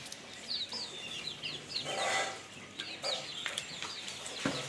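Ducks feeding outdoors, with repeated close quacking and clucking calls in short bursts over a faint background hiss.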